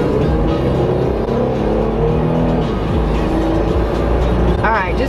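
Continuous loud engine and road roar from inside an unfamiliar car driven fast, steady throughout with a brief voice near the end.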